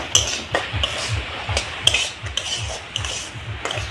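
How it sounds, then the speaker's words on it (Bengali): A utensil stirs semolina being fried in hot oil in a pan, repeated rhythmic scraping strokes about twice a second, close and steady, with a faint sizzle underneath and no talking. "সুজিটা আমি অনবরত এইভাবে নাড়াচাড়া করছি"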